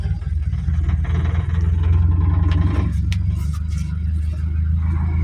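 A manual car's engine idles after starting, a steady low rumble close by with faint scraping and clicks on top, and no sharp revving.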